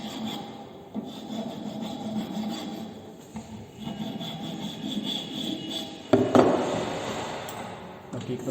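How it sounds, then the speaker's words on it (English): A carpentry file rasps across the freshly cut end of a wooden mortise piece, repeated rough rubbing strokes of varying length, close and moderately loud, with a sharper scrape near the end. "Now we are smoothing the end which has been cut afresh now."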